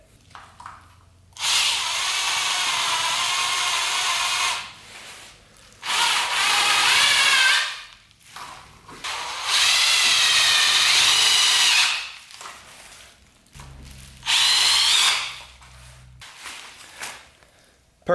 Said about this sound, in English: put the self-tapping screws through from the back, and they'll go right into those little tabs right there